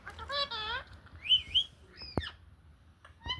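A pet bird kept indoors gives several short whistled and chirping calls, with warbling phrases and sharp tweets, fairly close and clear, while a person speaks softly nearby.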